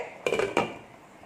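Two quick metallic clanks ring out, close and clear, as a lid is set onto a pot of beef curry, the second knock following about a third of a second after the first, then a quiet kitchen hush.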